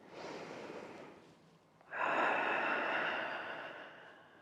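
A deep breath taken during a gentle reclined yoga stretch outdoors, close and clear: a soft inhale, a brief pause, then a longer, fuller breathy exhale.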